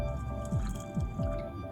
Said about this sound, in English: To that beaker, I added some water